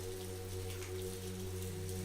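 Steady rain falls across a park, a soft continuous hiss of drops on surfaces under a low, constant hum, faint and even throughout with no voices.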